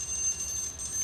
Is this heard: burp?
no